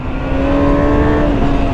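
A 2008 Suzuki GSX-R 750 motorcycle engine drones loud and close at a steady, slightly rising pitch, with no talk over it.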